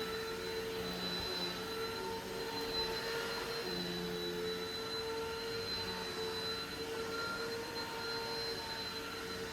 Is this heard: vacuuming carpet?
yes